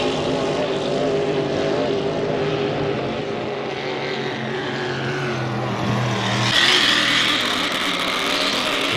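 An H350 hydroplane racing boat screams past at over 130 km/h, its engine a steady high-pitched drone that swells louder near the end as it closes in.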